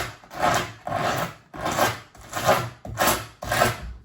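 Skateboard grip tape edge being worked with a file, producing six rhythmic, loud, close rasping strokes, each about half a second long, separated by short pauses.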